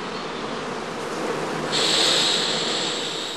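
Honey bees buzz in and around a straw skep hive, a dense, steady hum that swells louder and brighter partway through.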